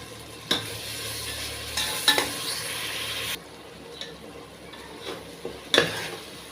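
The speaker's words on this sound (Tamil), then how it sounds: "தக்காளி போட்டுட்டு கொஞ்சம் உப்பு போடுங்க. அப்போ நல்லா வதங்கிடும்." Tomatoes with salt sauté in a pan for butter bean biryani, a soft steady sizzle under a few sharp clinks of a spoon against the pan, with a quieter stretch midway and no talking.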